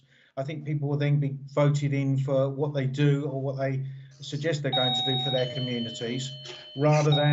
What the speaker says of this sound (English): that's my doorbell going in the rear